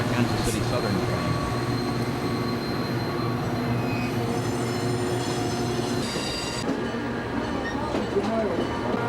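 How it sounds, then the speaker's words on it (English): A Kansas City Southern train on the Panama Canal Railway rumbles past with steady rail noise and squealing wheels, continuous throughout, a voice faintly present underneath. "More of a Kansas City Southern train."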